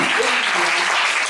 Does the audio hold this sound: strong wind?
no